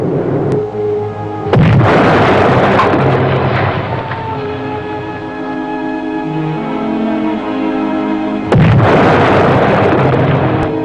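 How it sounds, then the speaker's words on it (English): Two heavy, booming depth charge explosions around a submarine, a few seconds apart, with a low rumbling, droning background between them. "The depth charges started to come thick and fast."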